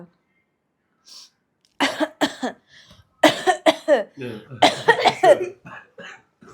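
A person with a cold and fever coughs repeatedly in close, harsh bursts, several clusters separated by short pauses.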